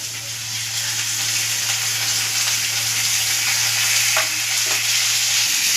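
Cumin, green chilli and ginger paste fry in a pan with a loud, steady, close sizzle. A low hum runs underneath and a few faint stirring knocks come through.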